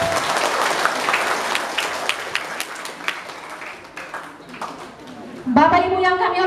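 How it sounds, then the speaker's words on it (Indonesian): An audience at a school debate applauds in a sustained, dense burst of clapping, tapering off before a voice starts speaking over a loudspeaker at the end. "Mari tepuk tangan yang meriah dulu."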